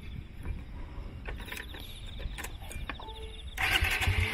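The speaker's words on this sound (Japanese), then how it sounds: "エンジンかけるとうるさいね。" A motorcycle engine cranks briefly, then catches and idles with a louder, rougher rumble near the end.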